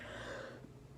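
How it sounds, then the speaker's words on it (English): A single short cough bursts out loudly at the very end, after a stretch of near silence with a faint low hum. "the more I cough"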